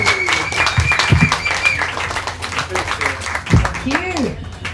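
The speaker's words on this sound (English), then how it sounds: "Another round of applause for Cam, guys." A live comedy panel show audience on the Gold Coast gives a sustained round of applause, with voices and shouts mixed in over the steady clapping.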